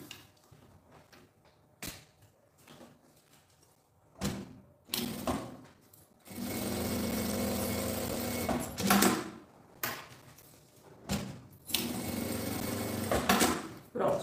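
A sewing machine fitted with a Teflon presser foot stitching the side of a quilted fabric panel, with a few short bursts early on followed by longer steady runs of rapid stitching, separated by clicks and handling sounds.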